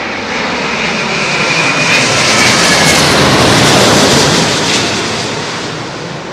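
An airplane arriving at London Heathrow on runway 27L passes overhead with a loud, broad engine roar that swells to a peak and then slowly fades.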